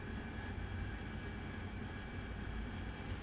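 An AV-8B Harrier jet engine in a DCS flight simulator gives a steady, loud, broadband roar with a constant low rumble and faint high whine, holding unbroken throughout with no voices.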